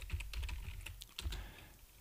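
Rapid clicking keystrokes on an unusual computer keyboard, close and fairly quiet, in an irregular burst that slows toward the end, with no talk.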